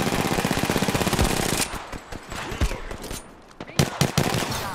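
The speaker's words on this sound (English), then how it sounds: "There's a guy trying to shoot!" Automatic gunfire in the shooter game Apex Legends: a loud, fast burst of machine-gun fire, followed by scattered single shots and sharp impacts.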